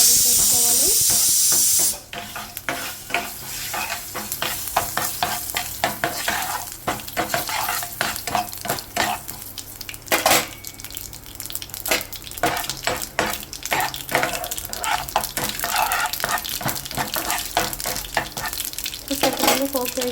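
Mustard seeds and dried red chillies frying in hot oil, a close, continuous crackling sizzle with popping bursts and spatters throughout, following a brief loud hiss at the start.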